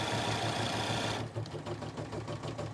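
A Bernina embroidery machine stitching a bag hums steadily at an even whirring rhythm, then shifts to slower, separate stitch-by-stitch clatters close to the microphone.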